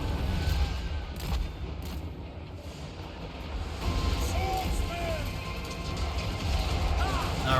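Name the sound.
cannon and gunfire in battle, Total War Warhammer 3 video game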